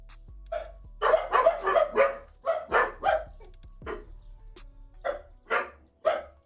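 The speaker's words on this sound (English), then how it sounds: "Doggos." Dogs bark repeatedly in a quick, uneven series of sharp woofs and yips, fairly close and loud, with short pauses between bursts and no voices.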